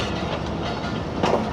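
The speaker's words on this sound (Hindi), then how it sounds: "अभी देख लेते हैं जब ट्रेन करीब आती है।" A Fareed Express train on a rural Punjab rail line rolls close by, a loud steady rumble of wagons with clickety-clack wheel beats and a brief rise in noise near the end.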